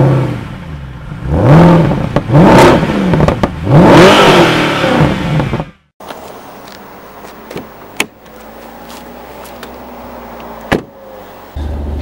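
Audi RS4 with a 4.2-litre FSI V8, 420 hp and a manual gearbox, accelerating loudly with rising revs through several gear pulls for about six seconds, then dropping to a quieter cabin hum with faint clicks.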